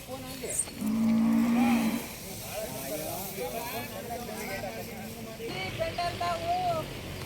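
Hallikar cattle at a village fair let out a long, loud, low moo close by, followed by murmured talk and general crowd noise from the fairground.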